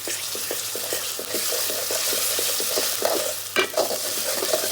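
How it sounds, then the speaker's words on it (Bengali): Ginger and garlic paste stir-fry with onions for beef with chana dal, a constant close sizzle broken by quick, repeated scraping strokes of a spoon and a louder clatter near the end. "এবার আদা রসুন একটু কষিয়ে নেব।"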